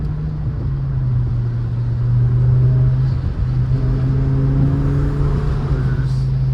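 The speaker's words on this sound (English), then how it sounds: "V10 under the bridge exhaust." A BMW E60 M5's V10 exhaust drones loudly under a bridge in the rain, a steady deep hum that swells as the engine is revved, with no voices.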